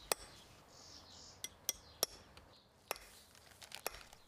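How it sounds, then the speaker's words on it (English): A silversmith hammers pieces of silver into silverware, giving a handful of sharp, ringing metallic strikes spaced irregularly over a quiet background, with no voices. "he hammers the pieces of silver, fitting them into distinctive silverware items"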